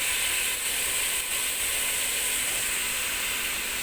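Crab curry masala with turmeric powder sautés in a pan, giving a steady, close, bright sizzling hiss that holds at an even level throughout without any talk.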